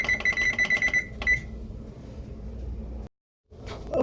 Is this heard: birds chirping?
no